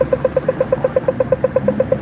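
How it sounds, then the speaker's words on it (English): A Melbourne traffic-light pedestrian crossing signal gives a rapid, evenly spaced train of short, sharp ticking beeps, loud and close, with faint street noise beneath. "That sound all our traffic lights make."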